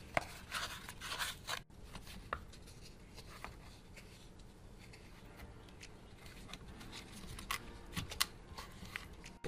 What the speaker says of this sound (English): we're going to stir it around to remix in that resin that kind of separated from it